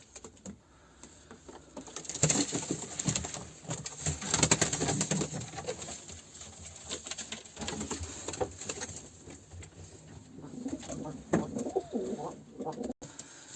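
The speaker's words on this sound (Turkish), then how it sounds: "Bunlar da benim 7 e, yıldır beslediğim damızlık kuşlarım." Breeding pigeons kept indoors coo softly in bursts, with wing flutters and light shuffling around them. The birds sound close but quiet, and a faint voice comes through at times.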